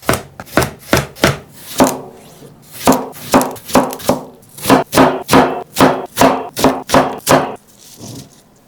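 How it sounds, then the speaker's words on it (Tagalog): A knife chops through cucumber on a board in quick, crisp strokes, about twenty sharp close-up chops in uneven bursts with brief pauses and no talking. "Maghiwa tayo ng pipino."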